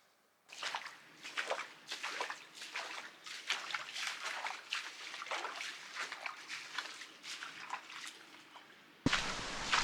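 A re-emerging waterfall in a desert box canyon gives a steady broadband rush of splashing water. It stays soft and fairly distant, with slight surges, and louder splashing cuts in sharply at the very end.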